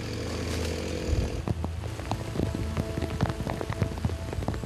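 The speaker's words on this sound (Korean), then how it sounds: "급기야 하나둘 떨어지기 시작하는 빗방울" Rain begins to fall in a forest during tree-felling work, scattered drops pattering on surfaces over a low steady background hum, growing denser after the first second and a half, no talk.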